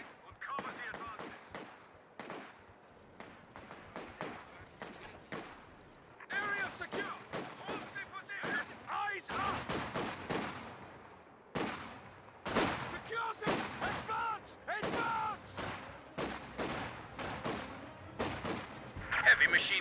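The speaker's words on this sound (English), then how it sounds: "Taking infantry fire!" Infantry gunfire in Company of Heroes 2, a long run of sharp rifle and machine-gun bursts, some close and loud, others thinner and farther off, arriving in clusters and steady chatter over about twenty seconds.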